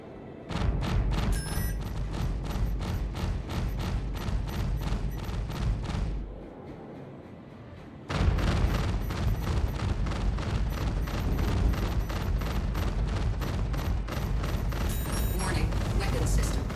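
Rapid ship weapon fire from an F8C Lightning fighter in Star Citizen, a dense rhythmic stream of loud shots that pauses briefly then resumes, with a synthetic voice warning over it.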